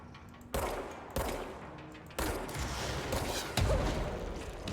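Gunfire rings out in a shooting video game, with several sharp, loud shots spaced about a second apart over a continuous noisy battle background.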